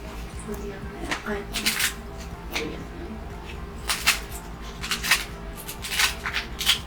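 Scissors snip through crispy roasted pork belly lechon kawali in a series of sharp, crackly crunches at close range, repeated irregularly, with people talking over the cutting.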